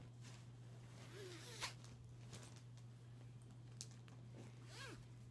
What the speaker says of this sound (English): A lot quieter than the other zippers.